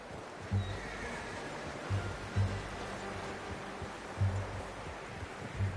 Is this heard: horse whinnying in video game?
yes